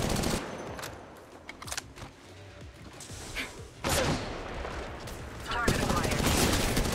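Gunfire in the mobile battle royale game Apex Legends Mobile comes in several sharp bursts and short volleys, some rapid and clustered, at moderate loudness, with game voice lines between them.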